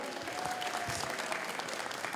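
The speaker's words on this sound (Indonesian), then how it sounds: "Boleh beri tepuk tangan untuk Sumerta Kelot" A quiz-show audience in Denpasar, Bali, applauds, a short burst of dense crowd clapping that stays steady throughout, with a faint voice mixed in.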